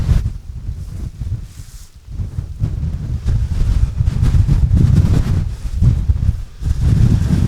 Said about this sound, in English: This wind, honestly.